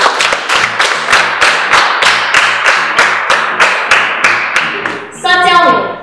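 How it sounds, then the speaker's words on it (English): A class of primary school children clapping together in a slow, steady rhythm of about a dozen sharp claps, close and loud, ending in a burst of excited children's voices. "Clap for yourselves."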